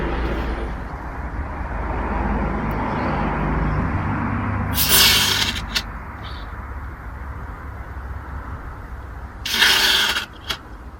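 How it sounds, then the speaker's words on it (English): Cleaning product sprayed through a hose into the air ducts of a 2002 Toyota Corolla, two short sharp hissing bursts about five seconds apart over a low background hum. "Progressively go and pull out the hose to spray all over the duct, but in small amounts each time."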